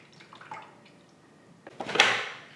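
Slushie mix is poured into the top of an Eco-Viva frozen drink maker. After a few faint clicks comes a short, close splashing pour that swells and then trails off.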